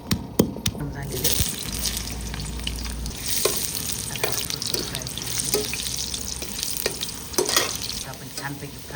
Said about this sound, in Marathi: याच्यामध्ये आपल्याला हे बटाटा आणि कांद्याच्या पाकळ्या फ्राय करून घ्यायच्या